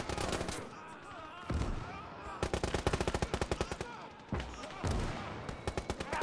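WW1 real-time strategy video game battle with an A7V tank, guns firing in bursts of rapid sharp shots, some long volleys and heavy booms, loud and close throughout.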